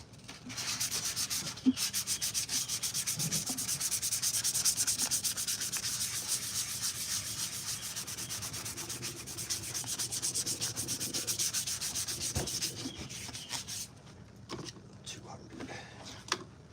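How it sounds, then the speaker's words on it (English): Steady, close rasping of 400 grit sandpaper rubbing over putty on a Rogue One Stormtrooper helmet, continuous strokes for most of the stretch before easing into a few lighter scrapes at the end. "I'm using, what do I got here? A 400 grit sandpaper"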